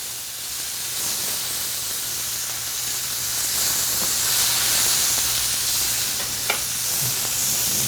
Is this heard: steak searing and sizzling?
yes